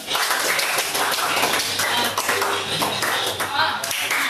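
A classroom of students clapping in rhythm during a lesson activity, loud and close with rapid, busy claps running throughout, mixed with voices talking over them.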